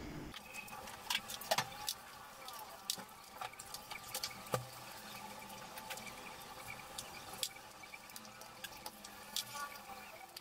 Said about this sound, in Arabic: غادي نضيف دابا الماء تدريجيا، تنجمع العجينه ديالتي